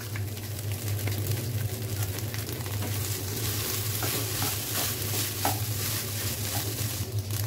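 Fried rice stirred and fried in a pan, with a steady close sizzle and continuous scraping and stirring, no voices.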